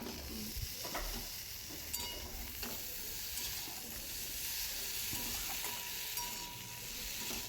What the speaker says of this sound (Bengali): আলু কষানো হয়ে গিয়েছে, এবার বেগুনগুলো দিয়েও আমি কষিয়ে নেব